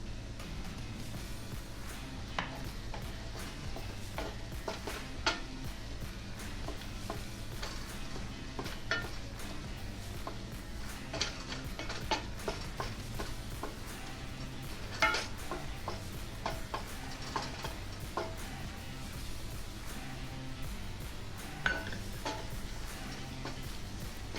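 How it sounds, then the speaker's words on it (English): Flour is stirred into sausage fat and butter in a pan to form a roux for biscuits and gravy, giving a long low sizzle with soft scraping strokes and occasional utensil ticks against the pan. "We'll mix that around, thoroughly combining the fat from the sausage and the butter with the flour."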